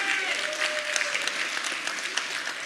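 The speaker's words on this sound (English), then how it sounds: "Let's give them a big round of applause again." Audience applause for the candidates at a Memphis Shelby County Schools candidates forum, a steady wash of many hands clapping in a hall for nearly three seconds with a faint voice underneath.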